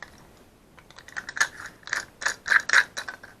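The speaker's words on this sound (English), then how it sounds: "Screw it back together." Small ratcheting clicks from a screwdriver tightening screws while a desk lamp is put back together, starting faint and growing into a quick, uneven series of close, crisp clicks with no talking.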